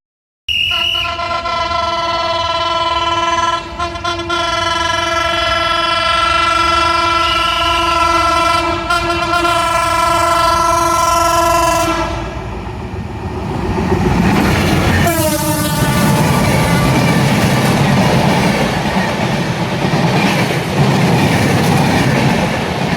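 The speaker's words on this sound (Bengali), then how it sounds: "ঢাকা অভিমুখী মধুমতি এক্সপ্রেস ট্রেনটি অল্প সময়ে শ্যামপুর রেলগেট থ্রু পাস করে যাবে" A train horn blares loudly for several seconds as the Madhumati Express passes through Shampur level crossing, then the rumble and rhythmic clatter of the passing express train fill the rest.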